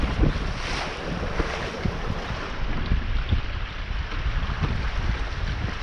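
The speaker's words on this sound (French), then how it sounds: "Voilà, tu vois, les petites rafales." Strong gusts roar across the microphone aboard a mini sailboat near the Oléron bridge, a continuous loud rushing blended with water wash and hull noise, with no talking.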